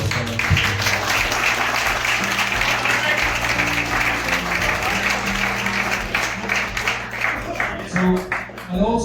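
Applause from a room of people at a senior football club presentation, many hands clapping steadily over a low humming background, with voices talking alongside and the clapping thinning toward the end.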